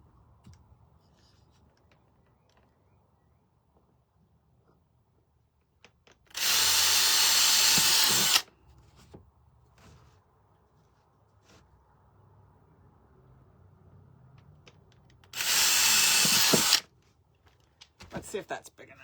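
Power drill boring a hole through a gingerbread plaque, two loud sustained bursts of whirring, each about two seconds, separated by quiet handling noise.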